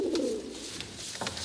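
Soft, low pigeon coos rise at the start, with faint chirps and rustles after against a steady background hiss; no talking.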